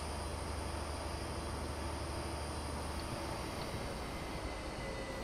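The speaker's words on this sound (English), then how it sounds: "So you can see all these trains going by here again." Trains on the Great Western Main Line in a train simulator give off a steady, continuous rumble and hiss with a low hum, like rolling stock passing at a constant level without a break.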